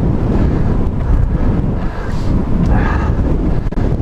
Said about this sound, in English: it fills your ears with the sound of wind to a point where when I'm talking on the mic, I can barely hear myself